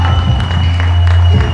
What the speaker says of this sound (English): There they are, taking the applause from the fans just below us.